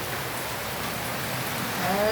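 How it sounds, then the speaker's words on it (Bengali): Heavy rain pouring steadily, a dense, loud, unbroken hiss of drops on surfaces, close and continuous throughout. "এই দেখুন এরকম জোরে বৃষ্টি হচ্ছে, ঝমঝম ঝমঝম করে বৃষ্টি হচ্ছে।"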